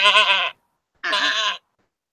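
A person imitates a goat, giving two drawn-out nasal bleats about half a second each, separated by a short silence and heard close and clear.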